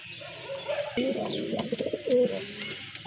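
Pigeons coo softly and repeatedly at close range, their low throaty calls rolling over a faint background hum.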